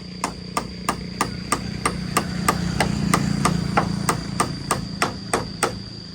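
Nails are hammered into a cut-out wooden board, close and loud, in a steady, even series of about seventeen sharp blows, roughly three per second, over a low background hum.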